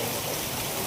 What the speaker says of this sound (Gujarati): જોઈ શકો છો અત્યારે વરસાદનો ફૂલ આવી રહ્યો છે સાવરકુંડલાની અંદર